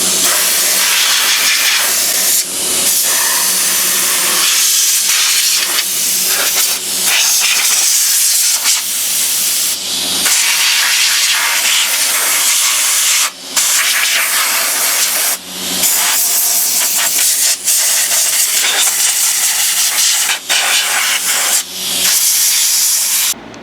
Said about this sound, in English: Now I got the air hose plugged in,